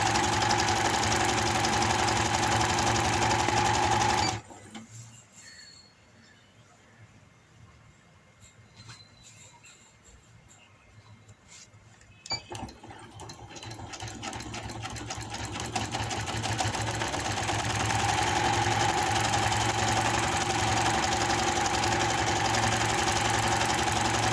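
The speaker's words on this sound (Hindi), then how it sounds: "साइड की सिलाई जो होती है दोनों पार्ट को जोड़ने के लिए" A sewing machine stitching the side seam that joins the two panels of palazzo pants, a loud, rapid, steady mechanical chatter that stops for several seconds of quiet handling, then starts again and runs up to full speed.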